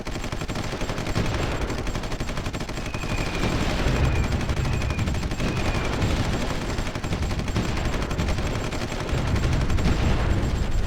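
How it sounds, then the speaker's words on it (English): Battle sounds from the strategy game Supreme Ruler Ultimate, a dense, continuous rumble of artillery and gunfire with rapid bursts layered throughout, heavy booms swelling at intervals. "and now the artillery is getting pounded"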